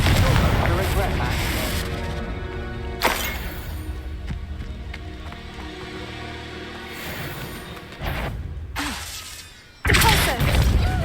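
Glacius and Confringo spells cast in the Hogwarts Legacy video game, loud bursts and shattering impacts with booming blasts, a sharp hit near the start and a renewed burst at the end, with a voice calling out over the game sounds.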